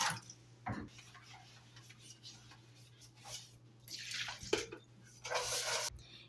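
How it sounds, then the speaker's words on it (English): Dishes get washed by hand with water: faint, irregular splashes, drips and clinks come in short bursts with quiet pauses between them, heard close with no talking. "Now it's time to wash all my dishes from today."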